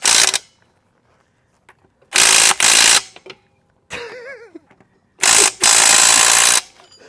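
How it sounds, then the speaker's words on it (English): Standard lug wrench working loose the lug nuts on a Rivian, giving three loud bursts of dense ratcheting clicks separated by quiet pauses, with a brief whistle-like tone between the second and third bursts. "lug wrench"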